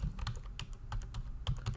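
Fingers type on a computer keyboard while entering AutoCAD commands, a steady run of close, crisp key clicks with uneven rhythm and no talking.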